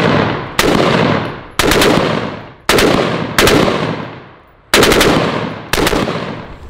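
Rifle bump-fired with a belt buckle rips out six loud rapid-fire bursts, each a sharp onset trailing off, separated by brief pauses.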